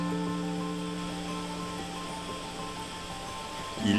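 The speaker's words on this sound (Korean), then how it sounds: "콧등을 통해 흘러나오는 물줄기는 기존에 우리가 알던 폭포와는 조금 성격이 다릅니다" A thin stream of water falls from the nose of Elephant Rock at Gihwa-ri in Pyeongchang, a rare seasonal waterfall. It makes a soft, steady wash, faint and continuous over a low tonal hum.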